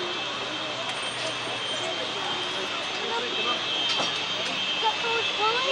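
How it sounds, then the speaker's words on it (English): A MiG-21 jet fighter roars past at an airshow, a steady, distant-sounding jet whine and rumble with someone talking over it. "MiG-21."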